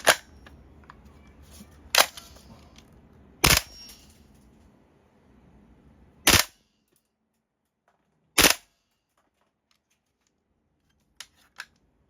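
An FN SCAR-L MK2 MWS gas blowback airsoft rifle by Guns Modify, loaded with its stock magazine, fires five loud, sharp single shots at irregular intervals, with a low hiss between the early shots and two faint clicks at the end.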